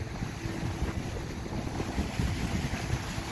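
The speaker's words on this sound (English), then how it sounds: "A little windy out here today." Wind gusts hard across the microphone outdoors, producing a continuous, heavy low-pitched rumble and buffeting that fills the whole stretch without any speech.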